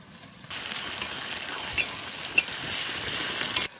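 Ginger-garlic paste sizzles and fries with onions in a pan for a home-style village chicken and potato curry, a steady close hiss with a few small pops and crackles.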